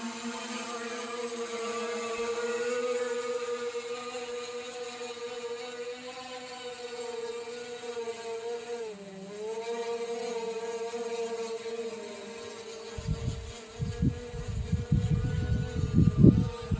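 A DJI Mavic Air 2 drone takes off in wind at an old missile site. Its motors give a steady, high, buzzing whine that briefly dips in pitch, and gusty wind thumps come in toward the end.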